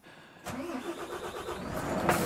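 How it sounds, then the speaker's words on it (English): A Volvo FH 500 Turbo Compound truck's diesel engine cranks briefly, then catches and settles into a steady close rumbling idle. "Let's just start it up and give you a sound of the engine."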